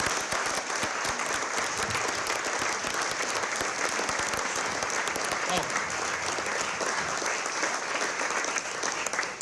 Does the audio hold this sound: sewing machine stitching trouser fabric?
no